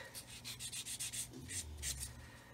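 Sanding stick rubbed back and forth over a seam on a 1/35 scale plastic kit part, a quick series of close, scratchy strokes in an uneven rhythm, with quieter handling sounds toward the end.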